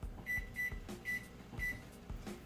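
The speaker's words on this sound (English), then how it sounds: "we will start a timer for 30 minutes on my microwave over here" Keypad beeps sound as a microwave timer is set for 30 minutes, four short high bleeps in quick succession with faint clicks between them, close and fairly quiet in a kitchen.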